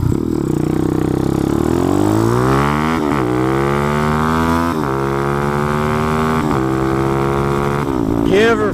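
A Honda CT70 minibike fitted with a 212cc engine accelerating hard from a stop at a drag-strip-style launch, loud close engine whine rising in pitch through several gear changes with brief dips between shifts.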